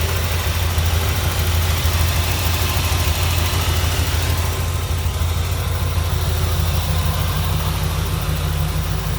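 A 1948 Oldsmobile Series 66 hotrod with a fuel-injected 5.7 engine, billet valve covers and electronic ignition idles steadily, a smooth low rumble that stays even and fairly quiet throughout.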